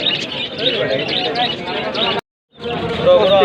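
Pigeons coo and chirp among the busy din of the Puran Bazar bird and pigeon market, with dense crowd chatter and people talking throughout and a brief dropout partway through.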